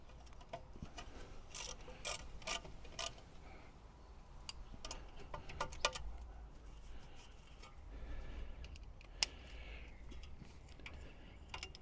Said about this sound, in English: I'll tighten up the bottom ones in the same way